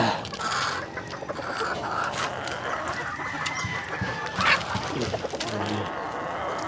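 Chickens cluck steadily inside a coop, several birds overlapping close by with scattered louder squawks and a brief crow-like call, mixed with rustling and no talk.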